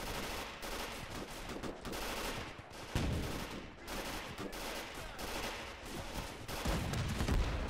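Battle in the World War II game Gates of Hell: dense, rapid bursts of machine-gun fire mixed with heavier artillery-like booms, loud and continuous with brief gaps between volleys.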